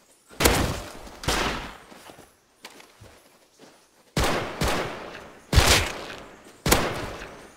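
Gunfire in the game Rust comes as several sharp, loud reports with gaps between them, each decaying quickly, with no talk over them.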